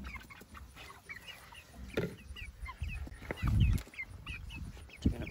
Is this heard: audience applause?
no